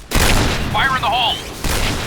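A grenade goes off in the video game Insurgency: Sandstorm, with loud broadband blasts at the start and near the end and a shouting voice in between.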